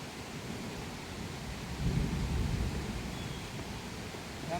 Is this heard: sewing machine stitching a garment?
no